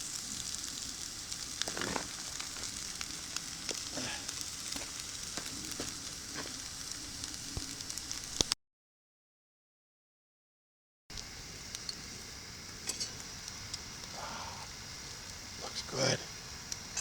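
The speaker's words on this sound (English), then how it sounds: "Yeah, it's sizzling." Catfish blackening in a hot cast iron pan gives off a steady crackling sizzle, with brief sharper pops and a short silent gap midway, while a person talks nearby.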